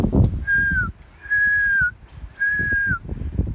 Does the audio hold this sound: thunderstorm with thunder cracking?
no